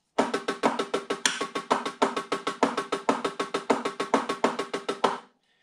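Single strokes from drumsticks on a practice pad run in a quick, even pattern with a few slightly accented taps, close and dry, ending abruptly, with no one speaking.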